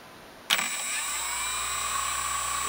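An electric RC car motor on a Castle Creations speed control spins up abruptly from near silence into a steady, high whine that holds at constant pitch, close and fairly loud.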